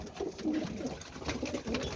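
Pigeons coo softly in a loft in low, repeated throaty phrases, several birds close by with a faint background hum.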